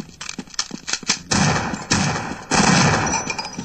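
Video game gunfire from Half-Life Blue Shift: a rapid series of sharp shots followed by three heavier, sustained blasts, loud and close, with no talking.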